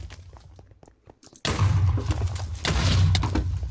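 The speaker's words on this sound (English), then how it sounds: "if I land a landmine, then I've got a massive damage on him because it's a big explosion" A big landmine explosion in the Olympia RPG video game, going off abruptly after a quieter stretch with faint taps and thuds, then a loud, sustained crashing roar with rumbling debris that carries on to the end.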